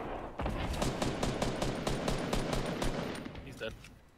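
Assault rifle fire in Fortnite, a rapid string of sharp shots in steady automatic rhythm lasting several seconds, loud and close, with a voice faintly underneath, tapering off at the end.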